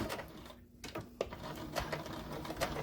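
Sewing machine back stitching on a plastic bag holder, a steady mechanical whir with short starts and stops and small clicks, close and fairly quiet.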